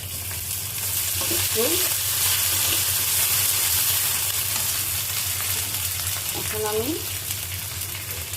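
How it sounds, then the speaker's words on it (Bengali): Onions frying in a pan give a steady sizzle and hiss, with a low hum underneath and a few brief voices cutting in. "পেঁয়াজটা আমার ভাজা ভাজা হয়ে গেছে"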